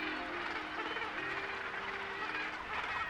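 A vast gannet colony on a coastal African island, with penguins nearby, calls in a dense, continuous chorus of overlapping harsh cries that holds steady and loud throughout.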